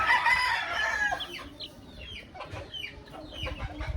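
A flock of chickens clucks nearby, with a rooster's crow loud at the start giving way to scattered, rhythmic hen clucks and short calls over a soft background.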